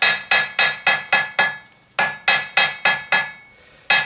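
Hammer blows forging a square taper to a sharp point on a drive hook, a steady run of loud ringing strikes roughly every quarter second, pausing briefly twice before resuming.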